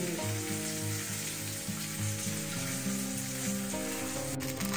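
Stuffed brinjal fries in a pan with a steady, close hiss of sizzling oil, while a tonal musical drone hums underneath throughout.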